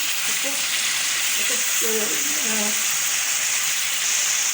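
Chicken shallow frying in a pan for Shinwari karahi, a steady close sizzle throughout with faint bubbling pops, and a voice murmuring briefly partway through.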